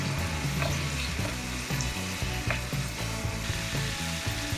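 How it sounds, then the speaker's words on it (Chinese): Chicken is stir-fried for curry in a pan over low heat after the aromatics have turned fragrant. A steady sizzle runs under repeated scraping and clacking strokes of a spatula against the metal, with no voices. "当你们炒到香味出来了以后，就可以放鸡肉进去一起炒。"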